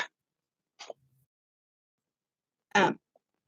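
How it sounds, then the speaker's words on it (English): A couple of short, breathy nasal bursts, with a louder, longer honking blow near the end, close and alone in otherwise quiet surroundings. "sorry about blowing my nose."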